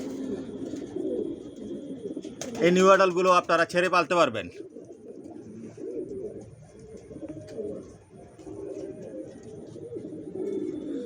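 Racer pigeons coo softly in a loft, with a brief louder bird call partway through, while someone talks over them most of the time.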